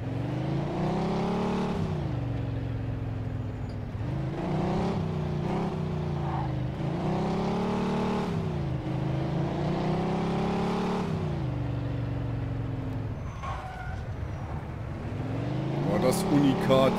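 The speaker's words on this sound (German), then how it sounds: "Ja, der Motor, der rührt jetzt aber ganz gut" A car engine in the Mafia 2 video game runs steadily and loudly, rising and falling in repeated revving swells, while someone talks over it.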